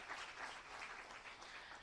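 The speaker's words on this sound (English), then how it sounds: "I think we can clap for them as well." Audience at a national conference on lesser-known species of Madhya Pradesh clapping for the volunteer team, a steady, faint wash of applause from a hall that continues evenly without any talk.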